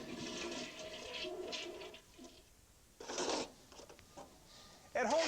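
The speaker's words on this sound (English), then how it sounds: "drain the tank before I do that." A toilet flushes as its tank drains, a rushing gurgle of water that surges, briefly quiets, then returns in bursts, with a person speaking at moments.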